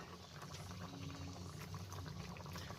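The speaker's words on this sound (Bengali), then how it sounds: "ডালটা ফুটছে" Mung dal with papaya and potato boiling in a pot, a steady, dense bubbling and seething that stays even and close throughout, with no talking.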